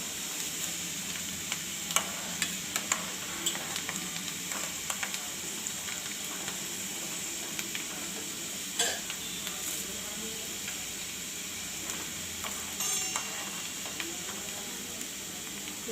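Ingredients for an Ayurvedic hair oil heat in oil over a very low flame, giving a quiet, continuous sizzle with scattered pops and light stirring scrapes throughout. Faint talk may sit in the background.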